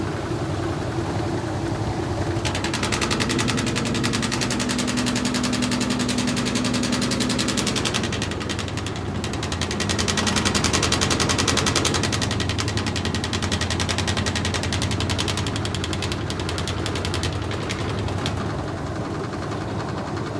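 A 1996 Whirlpool direct drive washing machine runs its first load, giving a loud, continuous mechanical hum and rattle that rises and shifts in intensity over about twenty seconds, with no talking.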